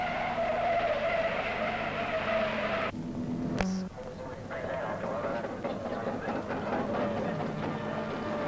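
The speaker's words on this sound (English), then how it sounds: "the roar of exhaust as 60 starters get away in the most grueling event on the motor racing calendar, the Hardie Ferodo 500" Sixty race cars roar away at the start of the Hardie Ferodo 500 at Bathurst, a loud, dense wall of engine and exhaust noise that drops briefly, then surges on steadily with a commentator talking over it.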